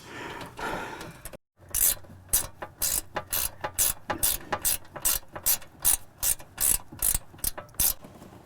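A ratchet tightens a nut tucked behind an RV monitor panel, giving a close, steady series of sharp clicking strokes in an even rhythm after a short pause and a bit of faint talk.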